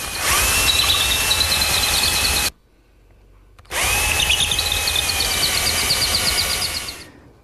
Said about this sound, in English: I just clamp it in place and drill the holes